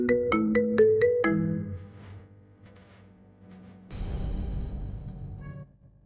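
A phone rings through a call: a short melodic ringtone of bright repeated notes at the start, fading into quieter murmuring before a burst of louder rustling noise near the end.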